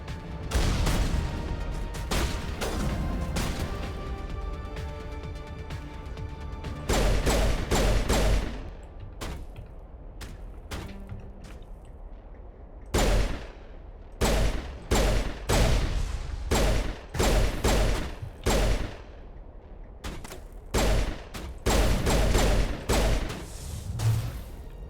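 Gunfire in Mass Effect 1, repeated bursts of loud shots separated by short pauses, with echoing booms and game music.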